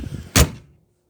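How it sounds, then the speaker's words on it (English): A single short thump of an RV compartment door closing on a 2021 Raptor 415 toy hauler, close and fairly loud, followed by a quick fade to silence. "so you can close this door."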